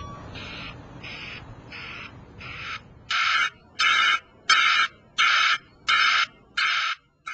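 A BBS Tek BacAlarm broadband vehicle reversing alarm in two patterns: four softer, muffled pulses, then six louder broadband hissing bursts, evenly spaced and repeating steadily.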